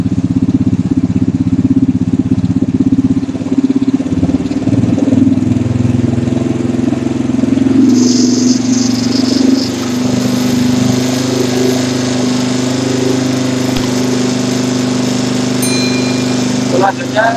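Carburetor engine raised to roughly 2500–3000 RPM by turning the idle adjustment screw, a steady, loud, continuous engine drone running throughout with a slight shift in tone partway through.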